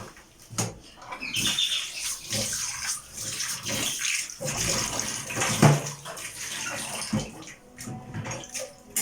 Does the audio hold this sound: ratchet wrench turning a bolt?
no